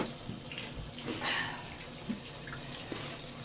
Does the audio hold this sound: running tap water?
yes